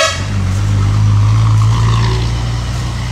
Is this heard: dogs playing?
no